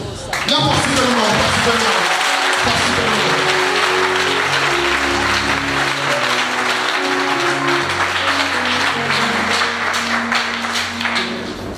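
A church congregation at an evangelistic mission in Togo cheers and applauds for Jesus, with loud sustained clapping and shouting filling the room, mixed with voices and a music bed underneath.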